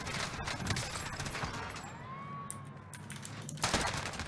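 Scattered gunshots pop against a busy background, with a rising and falling siren-like whine in the middle and a louder burst near the end.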